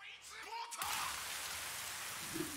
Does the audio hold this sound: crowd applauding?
no